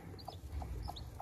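A hen with freshly hatched chicks gives a few soft, quiet clucks over a low background rumble, with faint high peeps scattered between them.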